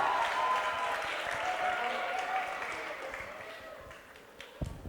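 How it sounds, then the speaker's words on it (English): A conference audience applauds a keynote speaker on stage with dense, steady clapping that gradually thins and fades over a few seconds. "Give him a big round of applause, please."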